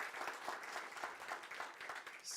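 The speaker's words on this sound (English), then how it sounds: "Please, let's make a round of applause for Sirle." Rather quiet, even applause from an audience at the ESTO 2025 future forum on Ida-Viru County, with many hands clapping together in a steady patter.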